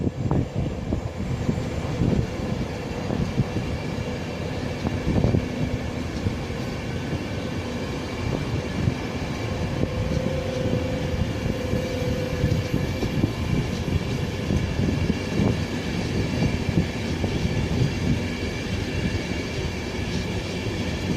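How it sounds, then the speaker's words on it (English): A Virgin Trains East Coast service on the East Coast Main Line at Peterborough passes close by, a steady loud rumble of wheels and rail joints rolling on without a break. "Virgin Trains East Coast service from London King's Cross to Edinburgh"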